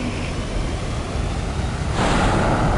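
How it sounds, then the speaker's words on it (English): An F-16 fighter jet engine at full afterburner in a flight simulator game gives a steady, loud broadband roar that swells noticeably louder near the end, with no talking. "Go ahead and power up your engine to afterburner."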